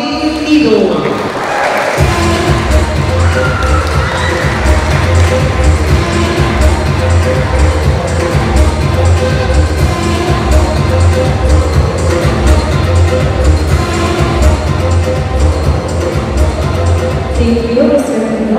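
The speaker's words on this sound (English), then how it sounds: "Let us give a warm round of applause to one of tonight's esteemed judges, Mr. Jerry Lou Joaquin Lido." Audience at the Mr. & Ms. Caponga 2025 pageant applauding a judge: sustained loud clapping and crowd noise filling the room from start to finish, with a voice heard over the top early on.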